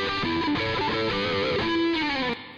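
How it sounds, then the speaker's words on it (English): Electric guitar solo played with a distorted tone through a spring reverb, sustained bending lead notes ringing continuously at moderate level, with a reverb tail that drops off abruptly at the end. "Let's choose guitar spring since we're using a guitar sound."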